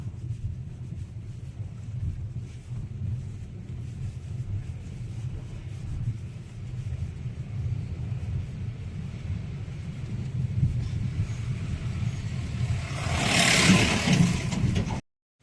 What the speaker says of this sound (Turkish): Bir traktör geliyor.